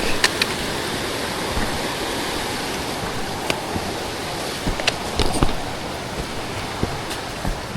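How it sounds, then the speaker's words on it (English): Creek water rushes steadily along the Torpy Trail near a cave entrance, a loud, continuous broadband flow with occasional small splashes and footsteps. "Crossed over to this side of the creek."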